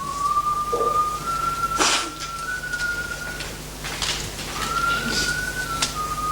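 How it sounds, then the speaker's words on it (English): A person whistles two long rising notes outdoors, a pause between them, with faint background noise and brief rustles. "who is that whistling outside?"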